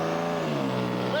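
Tractor-pull engine of the Liberty Bell pulling vehicle at Danville, Kentucky, a steady loud roar with strong harmonic drone and boost building, under a commentator's voice.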